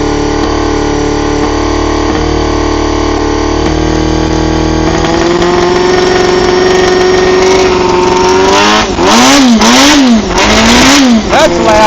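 A Honda CBR250RR MC22 motorcycle engine under restoration idles steadily, then climbs in pitch and rises into sharp repeated revs that surge up and down near the end, loud and close.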